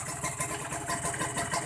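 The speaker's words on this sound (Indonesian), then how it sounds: "ini suara stasioner ya, tanpa digas ya teman-teman" A Kawasaki Ninja R motorcycle engine idles without throttle, a steady, uneven pulsing putter close by, with a worn, leaking cylinder-head o-ring and carburettor being set up.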